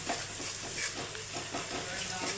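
A new kind of egg dish frying in a pan, giving a close, continuous sizzle with the hiss of hot oil and faint stirring scrapes.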